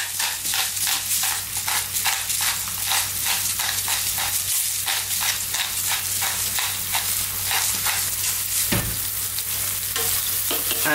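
Tomato tuna pasta sauce with oregano, salt and black pepper cooking in a pan over above-medium heat: a steady sizzle with a regular rhythm of stirring scrapes, close and continuous.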